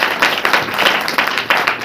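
A church congregation at a Saturday prayer meeting claps in a loud, steady rhythm of quick, close hand claps, with voices mixed into the crowd noise.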